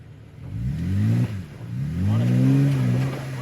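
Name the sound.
off-road vehicle driving over a boulder in forest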